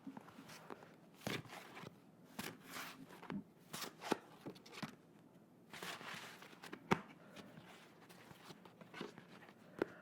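Tarot cards being shuffled close up in a quiet room, a series of crisp papery riffles and soft slaps coming in irregular bursts, with no talk over them.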